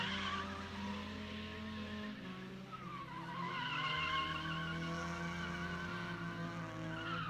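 A military-styled Mazda Miata drifts at an outdoor stunt show, its tires skidding and squealing loudly over a droning engine that shifts pitch in long sustained slides.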